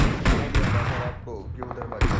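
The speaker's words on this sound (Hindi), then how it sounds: "शॉटगन" A shotgun firing in the mobile game BGMI (PUBG Mobile), with a few loud, sharp blasts spaced apart amid game noise and an excited voice talking over them.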